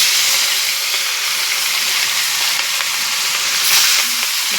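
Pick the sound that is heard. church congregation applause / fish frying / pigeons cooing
fish frying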